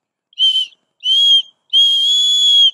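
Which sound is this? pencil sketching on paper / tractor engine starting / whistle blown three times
whistle blown three times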